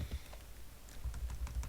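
Brief, close bursts of computer keyboard typing, quick soft key clicks in two short runs with a small pause between, entering values into a database table.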